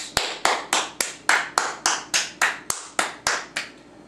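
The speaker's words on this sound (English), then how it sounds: "Give them a round of applause." A single person clapping in a steady rhythm, about fourteen sharp, close claps over a few seconds, each one ringing briefly, with no voices.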